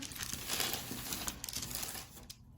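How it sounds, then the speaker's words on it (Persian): A sheet of paper laid over a Burda sewing pattern gives a soft, close crinkling and rustling that runs steadily for a couple of seconds, faint and alone. "کاغذ رو روش قرار میدم."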